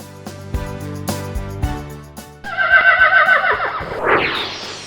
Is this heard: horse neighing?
yes